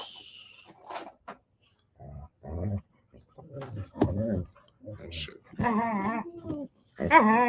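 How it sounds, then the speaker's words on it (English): Dogs scuffle under a table, giving yelps and whimpering cries in short bursts, with someone talking loudly over the commotion. "these damn dogs are fighting underneath the table"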